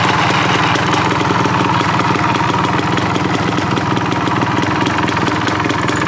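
A 1980 Can-Am Bombardier 250 Mk2 military motorcycle engine runs steadily nearby, a loud, continuous buzzing idle with a fast, even pulse and no pauses or speech.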